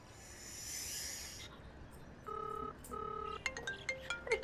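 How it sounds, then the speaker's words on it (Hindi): An incoming call rings on a phone in a Hindi-speaking household, electronic ringtone tones repeating in short bursts after a stretch of hiss, then a quick melodic run of beeps. "देखो ना पिंकी का कॉल आ रहा है"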